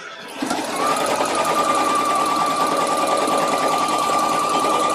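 A sewing machine runs steadily and loudly after a brief start, a continuous whirring hum with a faint rattle in its motor, used on a Victorian evening dress and beginning to sound like it needs a tune-up.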